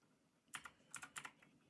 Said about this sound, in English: Apologies in advance for this keyboard typing you guys are about to hear.